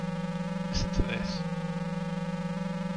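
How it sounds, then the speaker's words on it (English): Buzzing, droning Lotus car engine sound from the Mega Drive racing game Lotus 2, a steady, thin insect-like hum with small chirpy effects partway through, faint and unbroken. "You take your Lotus back to the shop if it sounds like this."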